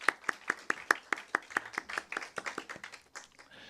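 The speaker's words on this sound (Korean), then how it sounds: "우리 선교사님과 우리 가족들 함께 박수로 큰 박수로 먼저 맞이하겠습니다" A church congregation at a Sunday service claps together for an arriving missionary family, starting with sharp, evenly spaced handclaps that loosen into a fuller, scattered round before fading out.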